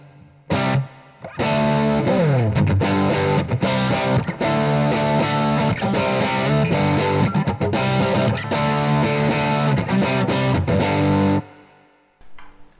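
Distorted electric guitar solo through a BluGuitar AMP1 preset with the effects loop engaged and volume boosted, playing loud and continuous for about eleven seconds before stopping abruptly, with a faint tail afterward.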